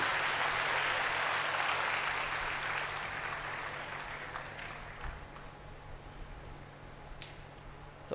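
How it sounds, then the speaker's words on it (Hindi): Faint, distant applause from a crowd at a Hindi-speaking gathering, a continuous wash of clapping that gradually fades over several seconds. "बहुत ज़ोरदार तालियां इनके लिए।"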